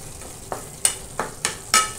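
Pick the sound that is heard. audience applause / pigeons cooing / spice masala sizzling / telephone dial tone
spice masala sizzling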